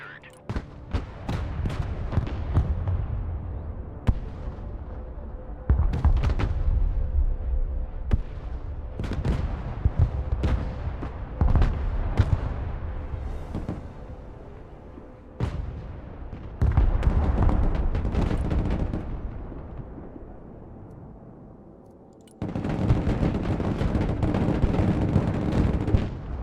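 Tanks firing in a battle in the video game Broken Arrow, during an invasion scenario at Baltiysk. Heavy booms and rumbling blasts hit in irregular bursts, with loud clustered stretches separated by quieter gaps.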